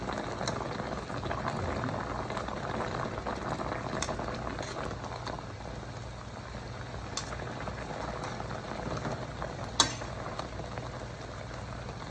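Pork belly simmers in a seasoned braising liquid, a steady soft bubbling and burbling that runs throughout, with a few faint clicks and one brief sharper tap near the end, no one talking.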